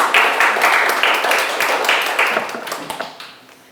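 Applause from the audience at a Korean youth organization's operational report event, a steady wash of clapping that tapers and thins toward the end with a few scattered claps.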